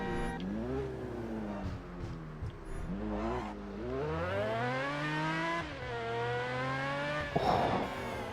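A green Lamborghini Diablo's engine revs hard in the Driver San Francisco video game, rising and falling through several gear changes with a loud, sustained whine, ending in a brief tire squeal.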